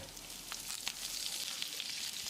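Constant crackling sizzle of small onions, garlic and curry leaves sautéing in hot oil for a drumstick kara kuzhambu, with a few louder pops and faint stirring, no voices.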